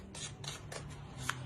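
Tarot cards being shuffled by hand, several quick papery riffles in a steady rhythm, close up over a low hum.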